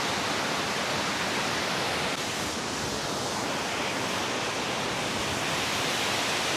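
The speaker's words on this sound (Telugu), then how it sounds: "Look at the waterfalls, man." Tarabu waterfall in Andhra Pradesh roaring as a continuous, broad rushing wash of water, loud and unbroken, with no voices over it.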